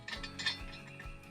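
Metallic clicking and ratcheting as a lock nut with washer is threaded onto a bolt of an ATV spreader/feeder assembly, a few quiet close clicks without speech.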